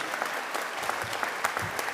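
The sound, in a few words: audience applause for graduates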